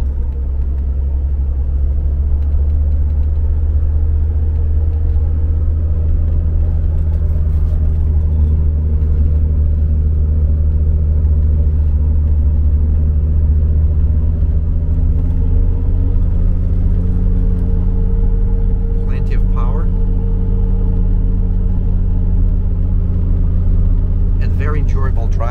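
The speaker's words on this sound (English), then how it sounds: "Engine braking down the hill." A 1972 Mercedes-Benz 280 SE W108 engine braking downhill, a steady low rumble and drone of the motor heard from inside the cabin, continuous and fairly loud throughout.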